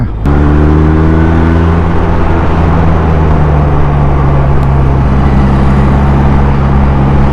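Steady, loud engine drone of a 2023 QJ Motor SRK 400 two-cylinder naked motorcycle while riding, holding a constant pitch with slight shifts, no speech over it.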